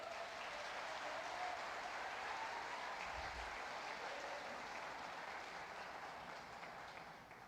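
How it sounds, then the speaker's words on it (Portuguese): Church congregation applauding, a faint, sustained wash of clapping that holds steady throughout with no voices standing out. "Pode aplaudir o Senhor."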